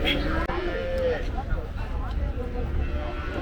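Cattle crowd a busy livestock market at Kundadam, with low moos and animal calls mixed into dense crowd chatter and a speaker talking up close.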